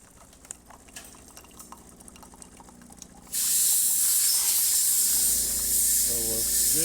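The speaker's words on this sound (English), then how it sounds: "let's do the hot water." Hot water dispensing from a Jura Impressa S9 Avantgarde coffee machine: a quiet hum gives way to a sudden loud, steady rushing hiss of flowing water that continues to the end.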